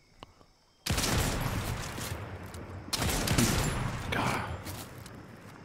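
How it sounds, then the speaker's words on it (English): Loud sustained gunfire in Fortnite erupts suddenly after a brief quiet, continuing as dense rapid volleys with a short break and a second heavy burst, close to the listener, while a voice briefly exclaims. "Shooting at me."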